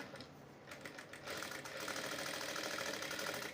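Sewing machine stitching the lining of a work blouse in a short, steady mechanical run that grows a little louder partway through.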